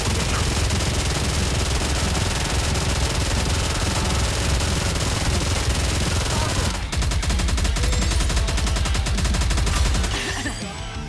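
Dense, continuous gunfire from a NIKKE game battle, loud and sustained throughout with a rapid rattling texture, shifting character partway and tapering slightly at the very end.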